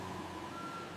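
A forklift loading pallets of grenade crates into a truck at a factory warehouse sounds its reversing alarm, a steady high beep over low engine hum, with no voices.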